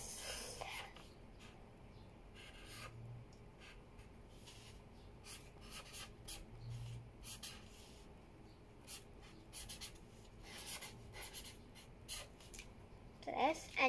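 A black marker writes on a birthday card, with soft scratchy strokes coming in short bursts close by and a person talking quietly in between.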